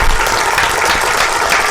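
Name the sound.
audience applause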